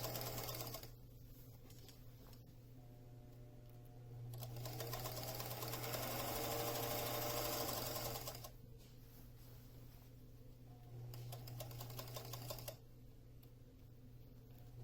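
A sewing machine stitches together a saxophone instrument mask bag with a back stitch and half-inch seam allowance, running in two steady whirring bursts with quieter pauses between, close and alone.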